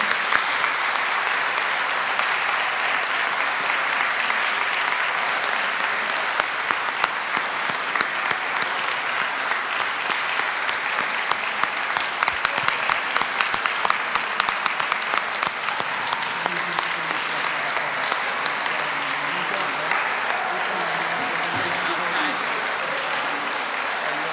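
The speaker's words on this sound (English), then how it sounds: "If we could just give the parents an incredible round of applause" Long, loud round of applause for parents at a Board of Aldermen meeting, dense clapping from a roomful of people that holds steady for over twenty seconds with faint murmurs underneath.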